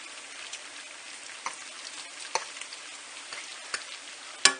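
Bacon sizzling in a pan of hot grease, a steady crackling hiss with scattered sharp pops, fairly quiet and close with no voices.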